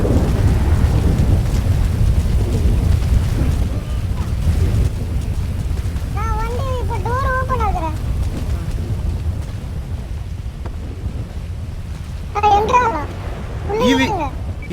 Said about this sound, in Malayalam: മഴയാണല്ലോ, പിന്നെ മഴയല്ലേ.